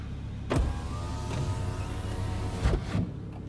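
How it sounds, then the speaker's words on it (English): The power windows of a BMW Z4 35is close with a steady electric motor whine, starting with a thump and ending with a firmer thud as the glass seats. "Up the windows will come."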